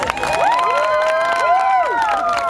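A crowd watching street performers whoops and cheers, with rising and falling shouted voices overlapping steadily at close range throughout and little clear hand-clapping standing out.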